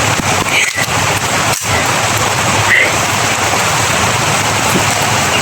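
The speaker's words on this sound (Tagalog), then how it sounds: "lalo na pag umuulan ganito" Rain falling in the mountains, a loud dense steady downpour hissing across the whole stretch with a few low thumps, no voices heard.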